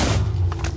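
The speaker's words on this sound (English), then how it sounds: "I knew I was going to get blown up by that grenade then" A grenade explosion in the MCStrike Minecraft game, a deep booming thud that rumbles low and fades over a moment.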